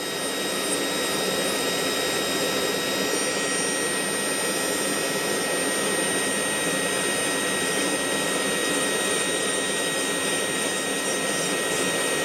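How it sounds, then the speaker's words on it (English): A high-speed rotary tool fitted with a cylinder bit grinds and cleans leftover wood while fitting a glass eye for a common loon chick, producing a steady, loud, continuous whine with no pauses. "I'm going to go in and clean that up real quick with my cylinder"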